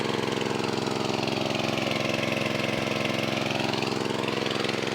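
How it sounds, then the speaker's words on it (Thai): A small engine-driven pump runs at a steady, unbroken drone while draining a pond to catch fish, close and constant for the whole stretch with no voices. "วันนี้มาสูบสะจับปลานะครับ สูบสะหาปลากินกันแบบบ้านๆนะครับ"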